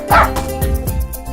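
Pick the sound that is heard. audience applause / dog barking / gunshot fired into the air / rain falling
dog barking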